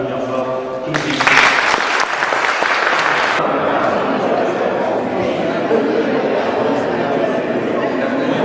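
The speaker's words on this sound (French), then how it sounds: "applaudir fort tout de suite" Outdoor audience applause at a gathering, a loud burst of clapping for about two seconds that then settles into steady crowd noise and chatter, with voices audible throughout.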